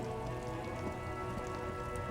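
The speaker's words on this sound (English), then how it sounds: "Oh, it's raining too." Steady rain in the game Disco Elysium hisses evenly throughout, a constant patter with no voices or other sounds.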